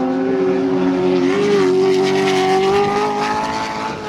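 Paul Stubber's Camaro muscle race car, running in Group NC at Muscle Car Masters 2010, drives past with a loud, sustained engine drone whose pitch rises and shifts before easing off.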